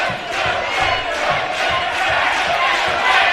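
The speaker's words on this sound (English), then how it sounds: "And chants of Kane ringing through the crowd" Arena crowd at a Caged Steel MMA event chants a fighter's name in a rhythmic, continuous roar of many voices, loud and steady throughout, with commentary talking over it.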